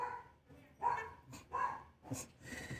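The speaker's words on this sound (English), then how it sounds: "Here's all the barking" A dog barks three times in fairly quick succession at moderate distance, with a short yip-like sound at the end and faint background noise.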